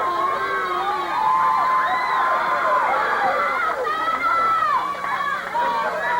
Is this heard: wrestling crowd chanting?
yes